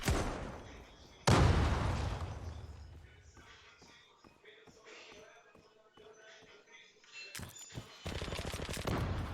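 Gunfire and explosions from the online shooter Zula, with loud bursts at the start, a string of sharp repeated shots through the middle and more firing near the end, mixed with faint game noise.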